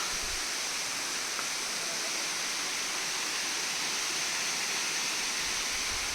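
Steady rushing water roars continuously from a jungle waterfall, a broad hiss at moderate distance, with no voices.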